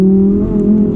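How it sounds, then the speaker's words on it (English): An Audi R8 RWS engine and exhaust hold a loud, close, steady drone with a brief throttle swell near the end, with no voices present. "So the exhaust dominates this car, the engine dominates this car"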